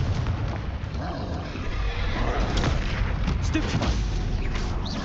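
Loud, dense spell blasts and booming explosions from the Confringo fire spell in Hogwarts Legacy, layered amid continuous chaotic combat noise with no clear pauses.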